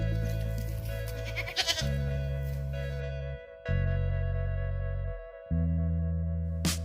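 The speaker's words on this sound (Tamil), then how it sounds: "மாடுகள் கூடவே எங்ககிட்ட ரெண்டு ஆடுகளும் அது கூடவே நாலு குட்டிகளும் இருக்குது" Two goats and four young kids on a cattle farm bleating in a few long, wavering, nasal calls, loud and close with short pauses between them.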